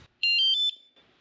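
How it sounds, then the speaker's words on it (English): A Guardian trailer alarm arming: three short, bright electronic beeps in quick succession and one longer tone, clean and close against near silence. "3 little tones let you know that it's arming"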